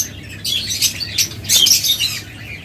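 Lovebirds in a breeding cage give bursts of shrill, close chirps and squawks in quick irregular clusters, with short pauses between them.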